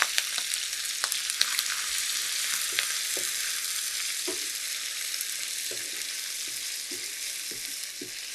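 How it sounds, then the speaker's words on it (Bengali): Onions sizzle steadily in hot oil with garam masala for a restaurant-style chicken gravy, a loud, even hiss broken by soft clicks and knocks of stirring. "পেঁয়াজটাকে আমি খুব ভালো করে ভেজে নিয়েছি।"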